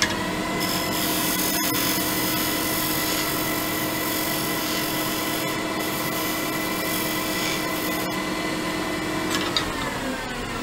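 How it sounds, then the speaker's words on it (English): An electric multi-tool runs steadily on a woodturned decorative box, a loud continuous whine and buzz held close throughout, with a few brief catches and a slight drop near the end. "I think the multi-tool would do that."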